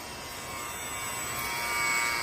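An E-flite UMX Timber STOL model airplane flies with a steady, thin electric motor whine, continuous and rising slightly in level as it passes, with no talk.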